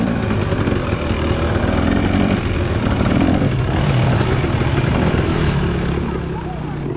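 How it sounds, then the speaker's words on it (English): A Yamaha YZ dirt bike engine runs steadily while riding trails on a slippery course, a constant loud motor drone throughout, with someone talking over it. "that's Garth right in front of me on the YZ"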